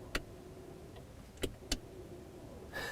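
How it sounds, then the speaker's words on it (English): Electronic parking brake engaging in a 2016/2017 Mazda 6 GT, a few short clicks inside the quiet cabin followed by a brief whirring motor sound at the end. "I've got an e-brake."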